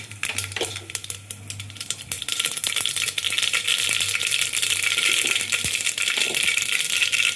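Mustard seeds spluttering and popping in hot oil in a pan while cooking a ridge gourd kuzhambu, a dense, continuous crackle of rapid close pops with no talking.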